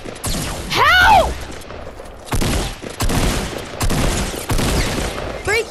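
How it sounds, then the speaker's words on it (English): Gunfire in the video game Fortnite comes as loud bursts of shots and impacts, with a rising whooshing effect early on, close and dense through the clip. "someone else is trying to shoot me"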